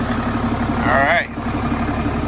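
A 2019 Ram 3500 diesel pickup fitted with an S&B intake idles with a steady, close, loud rumble, and a short squeaky whine sweeps past midway.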